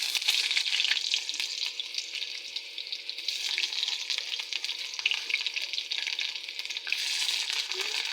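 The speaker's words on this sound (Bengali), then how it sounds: "তারপরে দিয়ে দিচ্ছি পেঁয়াজ কুচি।" Chopped onions sizzle and crackle steadily in a hot pan with bay leaves while cooking a mutton dish, a constant close frying hiss broken by occasional stirring, with no talk.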